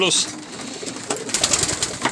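Racing pigeons coo and flutter in a lively cluster, with soft overlapping calls and some background voices mixed in.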